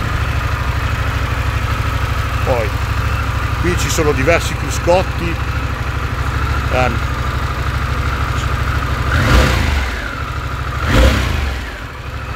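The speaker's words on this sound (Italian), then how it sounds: "e la moto è accesa." Harley-Davidson Pan America motorcycle engine idles with a steady low rumble throughout, close by, while someone talks over it, with a couple of brief swells in the engine note.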